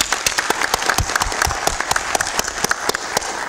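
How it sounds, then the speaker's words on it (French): Audience at a university occupational medicine conference applauds in a dense burst of many hands clapping, sustained and fairly close throughout. "Je vous invite à les applaudir."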